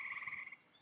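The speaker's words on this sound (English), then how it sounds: "The frogs are out." A brief trill of frog croaking on a summer night, steady for about half a second and then fading into quiet background.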